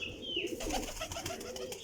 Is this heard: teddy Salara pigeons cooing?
yes